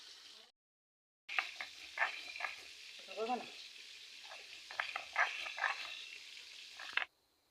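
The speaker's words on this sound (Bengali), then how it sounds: "আমি কপিগুলো ভেজে নেব" Cauliflower pieces fry in oil with a soft, irregular crackle and spitting bursts, fairly quiet and close, after a brief silent gap at the start; no voices.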